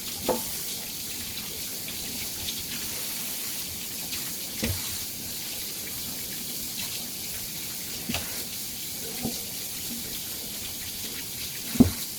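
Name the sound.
tap water running while rinsing chicken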